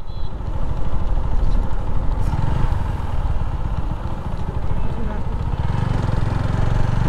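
Motorcycles of team members riding up on a straight road, a steady mid-pitched engine drone with clattering running throughout, fairly close and continuous, with voices faintly underneath.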